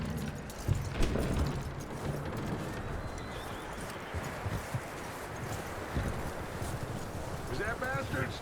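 Horse hooves clip-clop at a walking pace in the video game Red Dead Redemption 2, set in a snow storm, with steady muffled steps under a constant wind-like bed and frequent talk over them.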